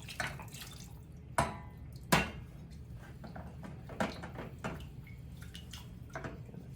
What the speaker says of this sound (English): Let's stir that broth up a little bit.